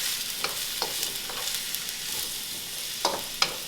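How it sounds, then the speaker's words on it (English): Potatoes, peppers and onions sizzle steadily in hot coconut oil, a dense continuous frying hiss broken by a few soft spoon clicks and stirs. "really just start cooking these up in that coconut oil"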